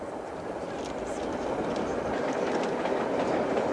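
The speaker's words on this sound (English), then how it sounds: "This is a train for people in a hurry." A Canadian passenger train rolls steadily along the rails, giving a continuous, loud rumbling rush with faint rhythmic clatter, close by and unbroken throughout.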